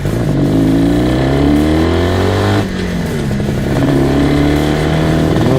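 An IZh Jupiter 400cc two-stroke motorcycle fitted with two carburetors is heard while riding, its engine loud and close and droning steadily, with pitch rising as it accelerates, easing briefly mid-run, then climbing again.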